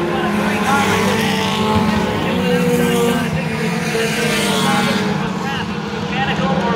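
Pure stock race cars at Lee USA Speedway, engines droning and buzzing loudly as the cars circle the track, a continuous layered motor roar under a commentator talking.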